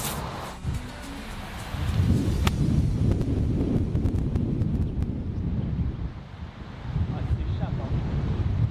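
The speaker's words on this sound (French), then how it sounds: "Ah, ça souffle énormément en haut." Strong wind gusting across a golf course, a loud rumbling roar buffeting the microphone for several seconds, rising and falling in waves, with faint voices underneath.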